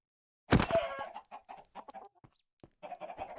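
Chickens in Minecraft cluck in short, clipped bursts after one louder opening squawk, the calls spaced irregularly and fairly close, with no voices over them.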